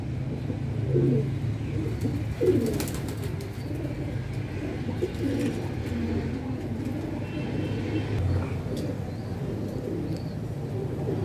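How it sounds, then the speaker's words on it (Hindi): Birds outdoors, with kites wheeling overhead and pigeons near plants; steady cooing and scattered bird calls run throughout over a constant background rumble of distant traffic. "आसमान की तरफ आगे की तरफ बढ़ते हुए परिंदे चीले"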